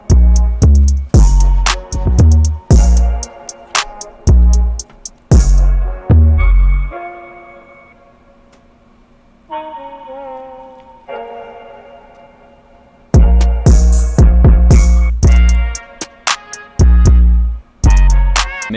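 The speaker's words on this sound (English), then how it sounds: "I also lowered the pitch of this brass section by an octave" An FL Studio hip-hop beat with a brass section pitched down an octave, loud punchy drum hits pounding in a steady pattern, dropping out mid-way to leave the deep, sustained brass line alone before the drums slam back in.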